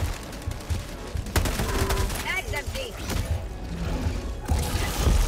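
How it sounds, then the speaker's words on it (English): In Helldivers 2, an orbital 120 mm HE barrage strikes in a continuous run of rumbling explosions and crackling blasts. Players talk over the barrage. "I do have a orbital 120 millimeter HE barrage."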